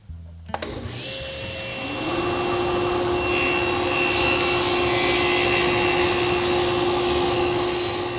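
A table saw spins up with a rising whine and then holds a steady, loud running tone as it cuts a dado groove in wood, continuous and close with no voices.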